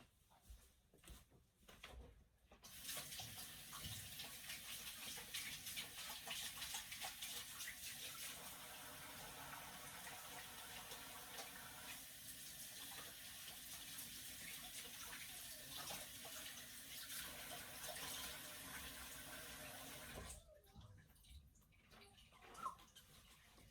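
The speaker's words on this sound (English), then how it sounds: "I'm going to go wash my hands a bit" A kitchen tap runs steadily for about eighteen seconds during hand washing, a close, even rush of water bracketed by quieter moments of handling and small knocks before and after, with no speech.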